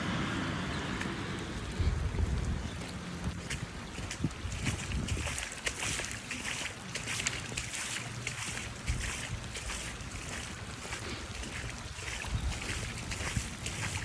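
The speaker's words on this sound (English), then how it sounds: "This is basically a river through my driveway." Floodwater runoff surges as a steady rushing wash across a driveway where a clogged roadside ditch overflows, a loud continuous flow with gusty noise and no talking.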